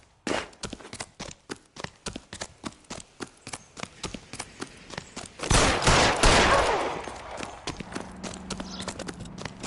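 Rapid gunshots in the video game L.A. Noire, a dense run of sharp cracks repeating through the scene, with a louder burst of fire and noise midway before the shots continue amid game sound.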